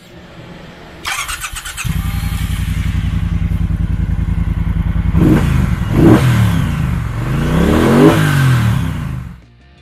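A 2019 Triumph Bonneville Speedmaster's engine cranks and catches, settles into a steady close idle, then revs up and down several times in loud, sweeping blips before cutting off.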